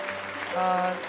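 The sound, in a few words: applause in a church service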